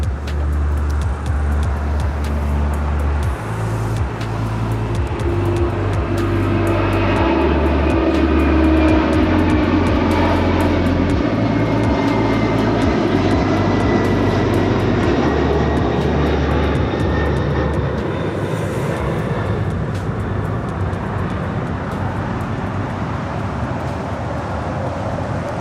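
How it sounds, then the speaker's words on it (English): FedEx MD-11 cargo jet, 26 years old, taking off from LAX: a loud, sustained engine roar with a deep low rumble and rising whine that dominates the whole stretch, fading slightly toward the end. "That's FedEx Flight 3901 heading to Newark at this MD-11"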